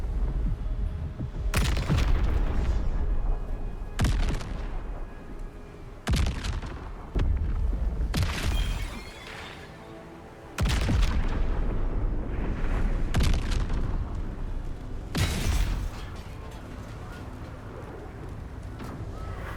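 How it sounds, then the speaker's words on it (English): Airstrike explosions in Baldur's Gate 3, a string of heavy booming blasts hitting every couple of seconds, each with a deep rumbling tail over the battle noise. "There's the airstrike."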